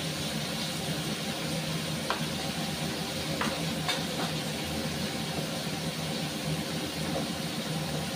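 Potatoes frying in hot oil with turmeric, giving a steady broadband sizzle and hiss throughout, with a few brief clinks of stirring against the pan.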